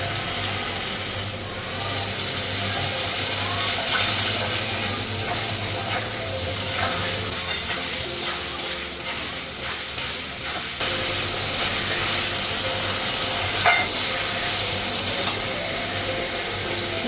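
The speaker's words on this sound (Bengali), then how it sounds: "অল্প জল দেবো" Water poured into a frying pan of spiced paneer curry with chili powder, salt and coriander powder, giving a steady close hiss and sizzle while a utensil stirs and scrapes, with no talking.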